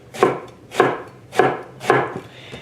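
A knife slices through tender-skinned Asian eggplant on a cutting board in four even, crisp cuts about half a second apart, close and clear with no talk.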